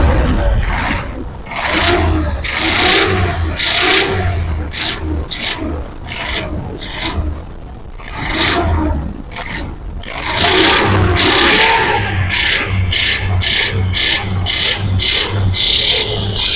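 A running vehicle engine with a faulty crank makes a loud, close, rough rasping grind that pulses in uneven bursts over a steady mechanical rumble.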